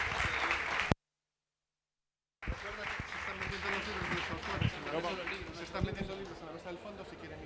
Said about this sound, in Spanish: un aplauso para estos escritores